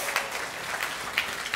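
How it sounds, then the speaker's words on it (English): Church congregation applauding for the choir and band at an Easter service, a steady soft wash of clapping with a few sharper peaks, fairly distant and without talk. "Can we give them a round of applause, honor them?"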